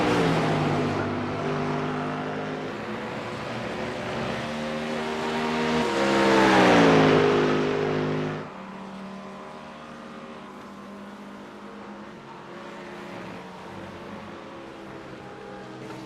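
GT3 race cars, including a Porsche, roar past on a circuit during an hour-long championship race, engines swelling to a loud peak as they pass close by, then dropping away to a steadier distant drone.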